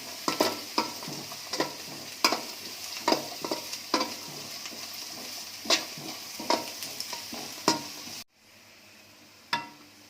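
Finely chopped carrots fry in a pan at a soft hiss, punctuated by regular sharp taps and scrapes of stirring that stop briefly near the end.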